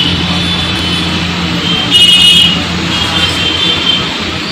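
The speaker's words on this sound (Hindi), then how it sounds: "बैकग्राउंड में आप आवाज सुने होंगे, गाड़ियों की आवाज आ रही थी।" Busy street traffic in Hyderabad, a steady low rumble of passing cars and trucks with a brief horn-like buzz rising midway, heard from a short distance.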